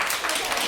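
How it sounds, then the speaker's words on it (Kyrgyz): Schoolchildren of a first-grade class clap together at an alphabet celebration, a short, bright burst of applause that fades quickly. "сөздөн кийин кол чабууну билген азаматтарым"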